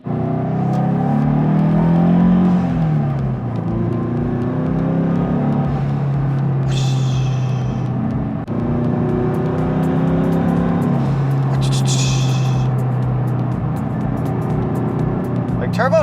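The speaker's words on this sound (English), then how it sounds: "Like turbo noises are the best noises." Turbocharged Subaru BRZ with about 300 wheel horsepower heard from inside while driving, a loud continuous engine drone rising and falling through revs, with turbo whooshes and hisses on the throttle.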